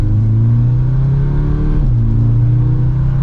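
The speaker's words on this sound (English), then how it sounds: "Got some pops in that exhaust." A 2023 Audi S3 Premium Plus accelerates with a loud, close engine drone that climbs in revs, dips briefly at a shift and rises again, with faint exhaust crackle.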